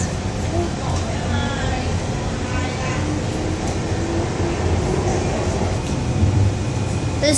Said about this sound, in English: There's just another train passing.